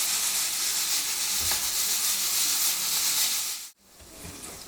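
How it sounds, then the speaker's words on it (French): Sliced courgette sautéing gently in a pan, a steady close sizzle and hiss with brief stirring sounds and a short break near the end. "Et ça on fait revenir doucement, sans coloration, c'est pas la peine, c'est juste pour faire cuire un tout petit peu"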